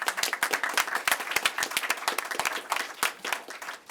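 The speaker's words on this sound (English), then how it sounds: "Let's give her a round of applause for that." A live round of applause at a county digital equity announcement, many hands clapping in a dense, steady patter from a nearby crowd for several seconds with no voices over it.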